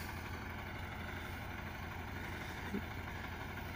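A tractor engine runs at a steady, even drone while hay is baled with a Chinese YK 850 pick-up baler in the field, close and constant with no voices.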